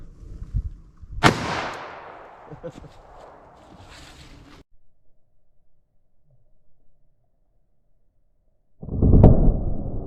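Remington Ultimate buckshot fired from a handgun: one sharp, loud close-range gunshot with a decaying tail, followed by quieter handling noises, a stretch of near silence, then a heavy thump at the end.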